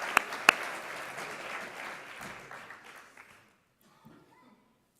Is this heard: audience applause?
yes